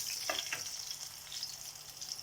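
Hot oil with spices for a dal tadka sizzles and crackles steadily, with a couple of sharper spatters early on; no talking.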